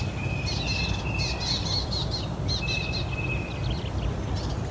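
Birds sing at Moore's Reserve near Riverton, New Zealand, with repeated bright chirps and a few sustained whistled notes in short bursts over a constant breezy outdoor rumble.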